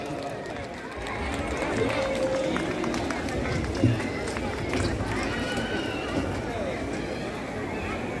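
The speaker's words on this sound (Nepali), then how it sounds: "एक जोरदार रूपले ताली लगाइदिनु होला हाम्रा प्रमुख अतिथिज्यूलाई" An audience at a school diamond jubilee inauguration claps for the chief guest, a dense, continuous wash of applause from a large crowd that holds steady throughout.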